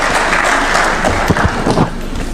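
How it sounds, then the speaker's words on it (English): A crowd claps for a trade union leader at a formal event with the Kenyan president present, a loud, dense burst of applause that runs throughout with a few sharper individual claps standing out. "A clap for Francis Atwoli."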